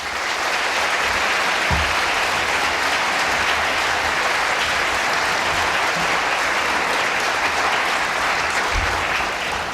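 Sustained audience applause from a crowd at a debate on immigration, steady and dense clapping filling the whole stretch with no pauses.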